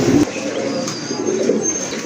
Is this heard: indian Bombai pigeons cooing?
yes